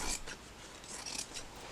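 Scissors snip through thick denim in a few quiet, uneven crunching cuts around jeans pockets, close by and without talking.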